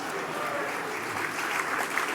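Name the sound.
applause from audience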